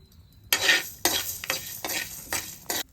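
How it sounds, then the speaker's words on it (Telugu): Coriander seeds and cumin being added to peanuts roasting in a kadai, heard as close scraping and stirring swishes against the pan. About five short rustling bursts come in quick succession, with no speech. "మనం ఇప్పుడు ధనియాలు, జీలకర్ర కూడా వేసుకుందాము."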